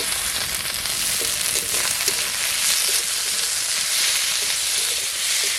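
Chopped tomato hits hot oil with ginger paste, garlic and onion already fried, giving a steady, loud, close sizzle and hiss that runs unbroken throughout with no talking.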